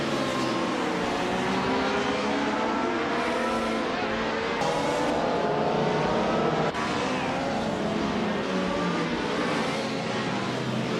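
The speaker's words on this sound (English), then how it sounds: "Hope you enjoy watching these AI cars race it out today" AI race cars racing in a video game, a continuous loud engine roar with revving, shifting pitch and passing cars, with no talking over it.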